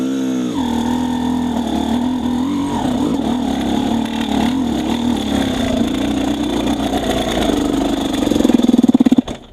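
An XTNG GEN3+ 36 motorcycle engine runs in second gear with a steady mid-pitched hum and drone that holds fairly even, then rises into a brief rougher burst near the end before cutting off.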